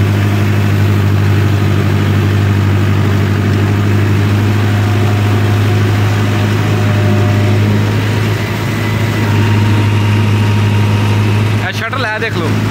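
A large tractor engine idles steadily up close, a loud constant low hum and drone that holds throughout, with a brief clatter near the end; someone talks over it.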